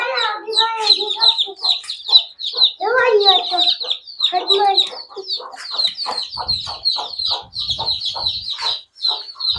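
A desi hen clucks close by among her chicks, low repeated clucks early on, then steady high peeping from the chicks throughout, busy and loud with no one talking.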